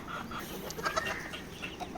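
Chickens, including a rooster, cluck and murmur amid a busy, steady background of a crowded coop affected by feather-pecking and cannibalism, with a few sharper calls standing out.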